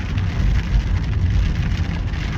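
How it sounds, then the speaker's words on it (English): Heavy rain pours down steadily, a dense continuous hiss of drops drumming on a surface, loud and close with no voices. "it's really raining. It's really coming down now."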